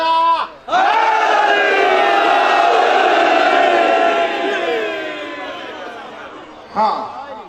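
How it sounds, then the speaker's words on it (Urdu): A crowd at a Shia religious gathering chants a slogan in unison with hands raised, a loud sustained roar of many voices after a brief opening shout, fading slightly before a fresh burst near the end. "دونوں ہاتھ بلند کر کے نعرہ لگاؤ بھائی"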